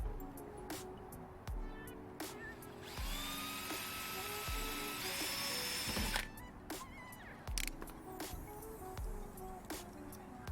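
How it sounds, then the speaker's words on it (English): A power drill drives screws into a universal front splitter fitted to a 2012 Mazda 2, whirring in short intermittent bursts with one longer, steady high whine in the middle, close and fairly quiet. "start drilling the screws in, which I'm going to do now"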